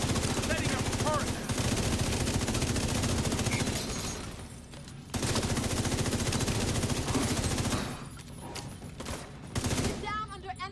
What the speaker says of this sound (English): Setting up a turret!